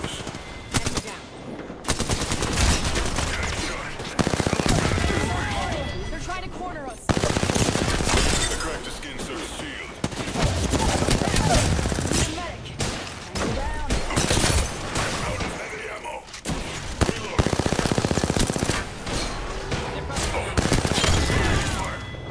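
Automatic weapons fire rattles through an Apex Legends match in long, loud bursts separated by short pauses, with rapid shots repeating again and again over more than twenty seconds.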